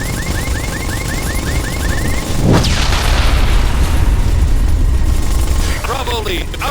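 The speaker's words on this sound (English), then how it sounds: "Incoming missile!" A missile blast in Ghost Recon Advanced Warfighter 2 erupts as one loud, close boom with a sweeping whoosh, and the rumble rolls on for a few seconds amid chirping electronic beeps.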